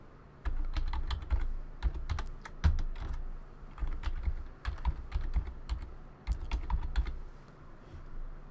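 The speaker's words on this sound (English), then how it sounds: "So I'm going to type mine in now." Computer keyboard typing a username into a backup software account setup, a steady run of close, crisp key clicks in irregular bursts with brief pauses, no voices.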